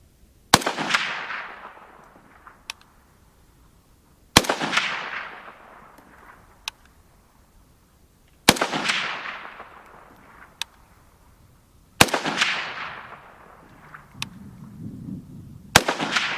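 A Type 81SA light machine gun fires single sharp shots outdoors in a timed vintage-division shooting challenge, five loud cracks spaced about four seconds apart, each trailing a long echoing decay, with fainter clicks between them.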